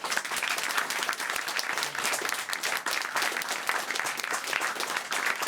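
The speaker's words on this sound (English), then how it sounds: "Let's have another round of applause for our winners, Bel-Aire" A crowd applauds winners of a national high school economics competition in New York, with sustained dense clapping that holds steady from start to finish.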